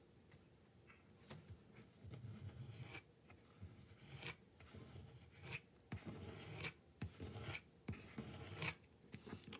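A palette knife or scraper drags thin paste across a reverse masterboard in repeated close scratchy strokes, with short pauses and rubbing between passes, no voices.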